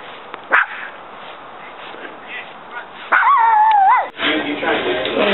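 A dog gives a sharp yip early on, then a high drawn-out whine and whimper with yelping, heard over household background and a person talking nearby.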